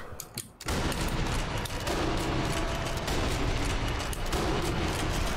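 Gunfire in the video game Sniper Elite V2 Remastered, heard as a loud burst of rapid shots after a short quieter start and then sustained dense firing and rumble that runs to the end.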